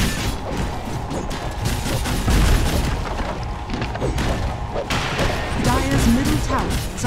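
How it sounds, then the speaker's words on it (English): A Dota 2 tower crumbles under attack in a video game battle, making dense booming crashes and rumbling impacts amid continuous combat noise, with voices over the din. "Dire's middle tower has fallen."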